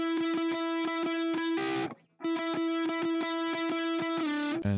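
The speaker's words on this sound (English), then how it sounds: "I just turn on Archetype Pliny's, their lead amp right here." Electric guitar lead played through the Archetype Plini lead amp plugin for a dreampop track, a bright repeated note pattern with a short pause midway and a brief slide at the end, clear and upfront.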